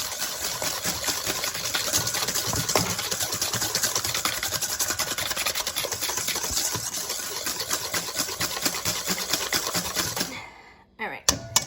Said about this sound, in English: We're gonna take our sugar, and we are going to whisk them.